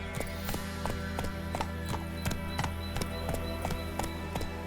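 Horse hooves galloping in The Witcher 3, a steady, fast clip-clop rhythm of evenly spaced hoof strikes over a continuous low musical and ambient bed, fairly quiet and with no talk.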